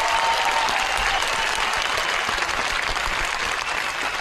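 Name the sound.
studio applause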